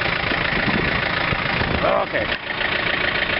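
A 2720 compact tractor engine runs steadily while driving a 47-inch snow blower through its PTO outdoors, a close, rough mid-low drone with a brief dip, while a person talks briefly.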